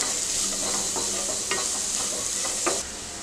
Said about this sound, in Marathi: एक कैरी किसून घेतली आहे, चांगलं परतून घेऊया।